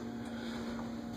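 A Thyssen Dover hydraulic elevator motor at a hotel hums steadily, giving a faint, even drone with a strong tonal whine and no talk.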